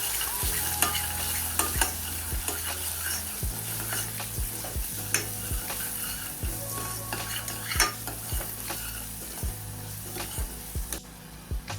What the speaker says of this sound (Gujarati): મસાલોને સારી રીતે તેલમાં સાંકળી લઈશું